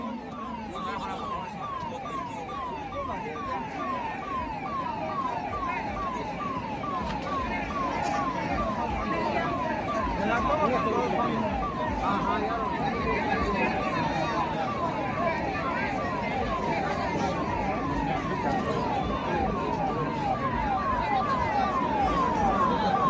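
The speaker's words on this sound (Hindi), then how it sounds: "भैया वो एम्बुलेंस को निकलने दीजिए।" An ambulance siren wails in a rapid, repeating up-and-down pattern through a crowd, steady and prominent for the whole stretch over a rumble of voices and traffic.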